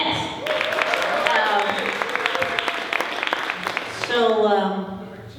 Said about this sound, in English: Give a round of applause to Tony Robles